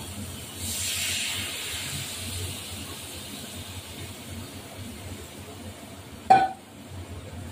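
Water poured into a hot pan of rohu fish curry with ridge gourd and fried cumin sets off a soft, spreading hiss, followed later by one sharp, louder burst of sizzle.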